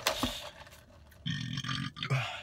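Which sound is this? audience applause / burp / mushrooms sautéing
burp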